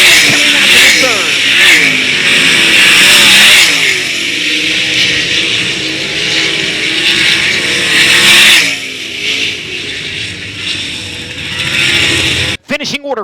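Sprint cars in a dirt-track heat race at the Brad Doty Classic roar loudly and continuously down the back straight and through the final turns, with engine tone rising and falling under a race announcer's steady commentary.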